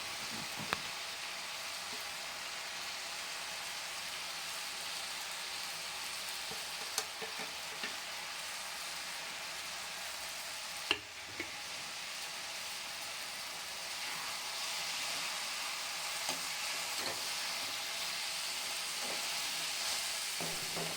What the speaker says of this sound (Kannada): ಮಸಾಲೆಯನ್ನೆಲ್ಲ ಹಾಕಿದ್ಮೇಲೆ ಒಂದು 2-3 ನಿಮಿಷ ಚೆನ್ನಾಗಿ ಫ್ರೈ ಮಾಡಬೇಕು